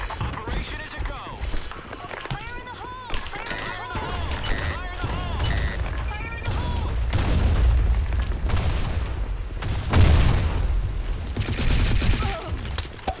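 Gunfire from the Blackshot competitive shooter game comes as rapid shot bursts and booms mixed with footsteps, under continuous team chatter from the players.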